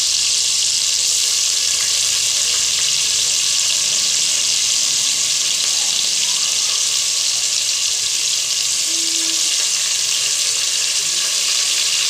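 Onions fry with spices in a pan, giving a loud, dense, continuous sizzle that holds steady for the whole stretch. It sounds close and is heard alone, with no talking over it.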